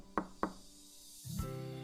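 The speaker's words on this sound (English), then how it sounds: "She knocked on Sprout's door." Two crisp knocks on a door, close and clear, followed by a soft tonal hum.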